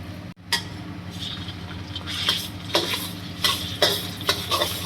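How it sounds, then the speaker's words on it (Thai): Chili stir-frying in a hot pan for a Thai curry, steady sizzling with repeated scraping and stirring strokes and occasional light clinks of a utensil, no voices. "ผัดพริกให้หอม"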